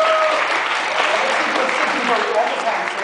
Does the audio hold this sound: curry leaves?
no